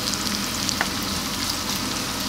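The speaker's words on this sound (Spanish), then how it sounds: "Todo esto se sofríe con aceite de oliva." Chorizo frying in olive oil in a pan over moderate heat, a dense, even sizzle heard up close with a few small pops.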